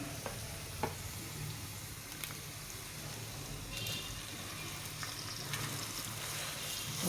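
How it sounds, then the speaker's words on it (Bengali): Noodles fry in a pan for pitha with a soft, steady sizzle and occasional stirring scrapes and clicks, fairly quiet and close throughout. "নুডলসটা ভেজে নিই"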